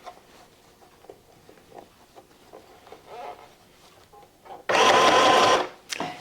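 A sewing machine stitches the first row of a beginner drawstring bag, sewn from the underside, in one loud steady whirring burst of about a second, then a short second run, after quiet handling noises.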